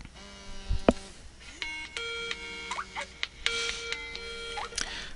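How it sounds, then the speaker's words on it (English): A phone rings with an incoming call, giving repeated electronic tones in short bursts with brief gaps and a few soft knocks in between, fairly close and clear with no talking over it. "I'm getting a call on my phone"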